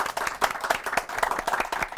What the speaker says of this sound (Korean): 세 분 MC분들께 박수 부탁드리겠습니다